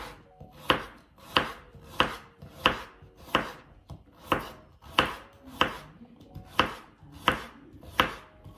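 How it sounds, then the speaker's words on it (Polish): A knife chops carrot on a board in slow, even strokes, about a dozen sharp, close thuds spaced roughly every two thirds of a second with quiet gaps between. "I jeszcze kroję marchewkę."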